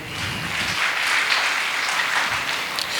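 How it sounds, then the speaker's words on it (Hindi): A church congregation breaks into steady applause for a brother during a Sunday sermon, a dense wash of many hands clapping at once, fairly close and sustained for the whole stretch without letting up. "ताली बजा सकते हैं भाई के लिए"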